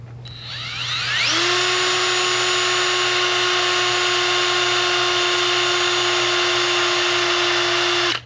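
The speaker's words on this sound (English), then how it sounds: "I'm pretty much just going to drill right into this guy right here" A power drill boring pilot holes in a motorcycle's rear fender area to mount a fender eliminator plate, whining steadily up to speed and running continuously at a high, even pitch, close and loud, with no talking.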